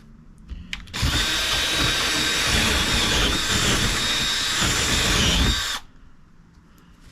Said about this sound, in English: This drill bit is not big enough to get that through there